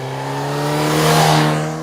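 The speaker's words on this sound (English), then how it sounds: "Honda has spent a lot of time getting the sound right of this bike" Honda CB1000GT motorcycle with its Hornet-derived inline-four engine accelerating, a steady close engine drone with strong harmonic tone that swells slightly in loudness mid-way before easing off.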